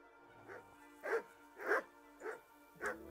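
Dogs bark in the video game Kingdom Come: Deliverance, five evenly spaced barks over a few seconds, each clear and at moderate distance.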